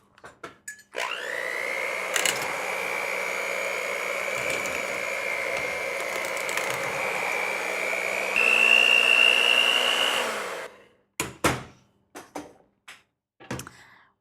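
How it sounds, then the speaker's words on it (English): An electric hand mixer whirs steadily through roasted garlic vegan mashed potatoes, a sustained motor drone that rises in pitch near the end, then cuts off, followed by a few scattered clanks. "I'm basically going to beat these with my mixer until all the chunks are out and they're nice and smooth"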